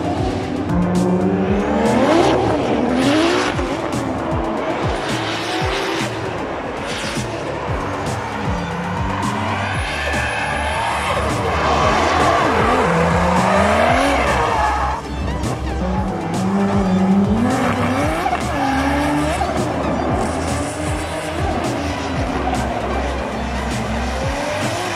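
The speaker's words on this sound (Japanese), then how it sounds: "D1 車両の2台で素晴らしいランデブー" Two D1 drift cars run in tandem during a test, engines revving hard as their tires squeal continuously through long slides, loud and close, with rising and falling engine pitch and brief lulls between bursts.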